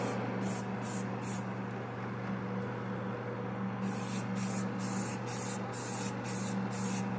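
Primer sprayed from an aerosol can onto a scale model in short repeated bursts, a steady close hiss pulsing on and off over a constant background hum.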